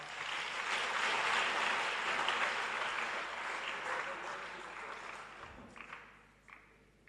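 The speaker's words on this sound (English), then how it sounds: "Can we give them a round of applause" An audience applauds learners at a Shova-Kalula bicycle distribution overseen by the Deputy Minister of Transport, a steady wash of clapping that swells early, then gradually fades, with a few louder isolated claps near the end.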